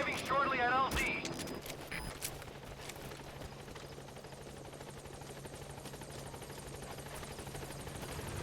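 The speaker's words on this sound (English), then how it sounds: "Support helicopter has arrived." A support helicopter arrives at a landing zone in Metal Gear Solid V, its steady rotor chop droning throughout after a brief burst of sharp game sounds at the start.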